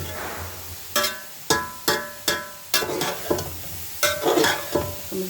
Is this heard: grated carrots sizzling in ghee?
yes